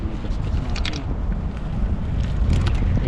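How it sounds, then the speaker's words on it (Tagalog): Strong, gusty wind roars continuously across the microphone at a rocky fishing shore, a dense rumbling buffet with no pauses and no one talking. "Ang lakas ng hangin"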